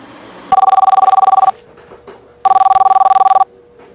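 A telephone rings in two loud, close bursts of rapid electronic trilling, each lasting about a second with a pause between, and no voices alongside.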